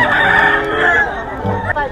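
A close, loud crow from an alimbuyugin gamefowl stag, a single drawn-out cock-a-doodle-doo that fades near the end. Some faint background sound sits beneath it.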